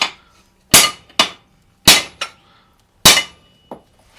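Sharp metallic clangs ring out as a hammer strikes a steel engine mount bracket on a supercharged Hilux restoration, loud close blows landing in pairs with short pauses between.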